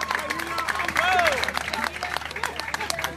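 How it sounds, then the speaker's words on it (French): Audience applause at a birthday celebration concert, moderate clapping from a crowd with cheers and background chatter, fairly distant and mixed with a busy room. "que je vous prie d'applaudir très très très fort."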